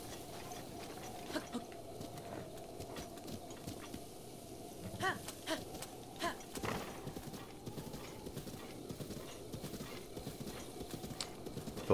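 Horse hooves clip-clop steadily on the ground in Zelda: Breath of the Wild, a rhythmic trotting patter at moderate distance with occasional louder footfalls and soft ambient game sound beneath.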